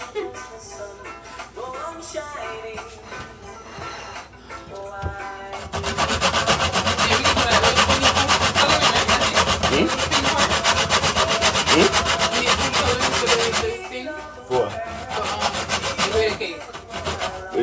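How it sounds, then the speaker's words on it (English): Nutmeg scraped on a small handheld grater in a home kitchen: steady, rapid rasping strokes, loud and close, growing denser and more continuous midway, with faint voices in the background. "get me nutmeg grater now"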